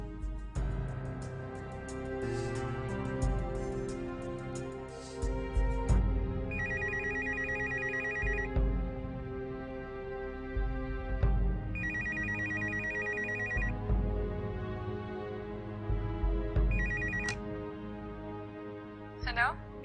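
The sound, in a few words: telephone ringing on an outgoing call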